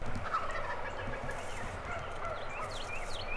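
A wild turkey gobbles in the distance, its rapid rattling call carrying over a steady outdoor background.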